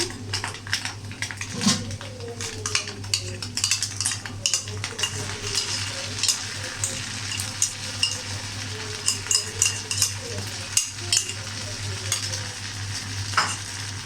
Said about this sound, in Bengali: তো চলো এখন নাড়াচাড়া করলাম।